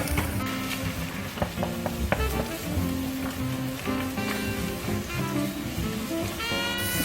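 Beaten eggs sizzle into a scramble in a pan beside pushed-aside stir-fried ingredients for pineapple fried rice, a steady soft crackle with light clinks of a utensil, fairly quiet throughout.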